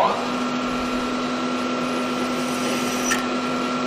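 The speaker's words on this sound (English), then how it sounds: "We'll go ahead and get this hole drilled." A drill bores a hole through metal in a machine shop, a steady loud whine with a high tonal hum running continuously from start to finish, with no talk.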